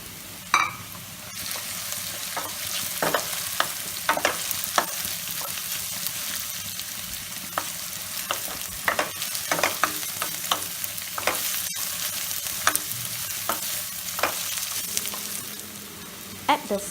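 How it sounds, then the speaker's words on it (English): Pumpkin pieces fry in a pan for pumpkin rice, giving a steady crackling sizzle broken by repeated scraping clicks as they are stirred. No voices. "You just need to fry the pumpkins for about 2 minutes before adding the rice."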